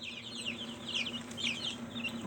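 Faint, high chick peeps come in small clusters over a steady low hum, soft and somewhat distant.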